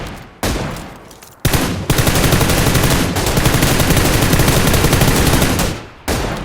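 Sustained automatic gunfire in the shooter PUBG Lite rips out loud and close in long dense bursts, broken by brief pauses, with no talk over it.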